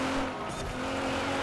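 A car drifting on a handbrake turn in the racing game Forza Horizon, with a steady, loud screech of sliding tyres over a humming engine for a second and a half.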